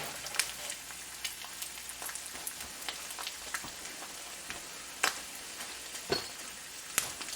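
Eggs fry in an unseasoned carbon steel pan, a steady fine crackle with scattered sharper pops and spits, close and fairly loud, with no voices.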